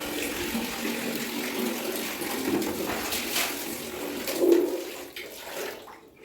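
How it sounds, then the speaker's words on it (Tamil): Water poured out to rinse a bathroom floor during cleaning, a steady splashing wash that swells briefly near the end before tapering off. "இப்போ நம்ம தண்ணி விட்டு கழுவி விட்டுடலாம்."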